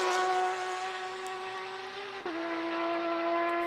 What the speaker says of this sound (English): Nice, clean, soft upshift.